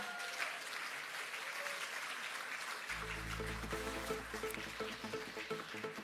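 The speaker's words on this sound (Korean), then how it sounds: "큰 박수로 함께 해주시기 바랍니다." Applause fills a party's 70th anniversary ceremony hall, a steady, fairly distant wash of clapping that continues throughout, joined midway by a low sustained musical tone underneath.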